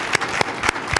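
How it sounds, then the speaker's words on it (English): A conference audience at an educational equity event claps for a panel. Only a few sparse, distinct claps land about a quarter second apart over a low room hum, sounding more like scattered hands than full applause. "Can we give a round of applause to this panel,"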